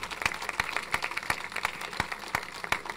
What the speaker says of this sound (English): How about a round of applause for our flag and for our friends from the American Legion.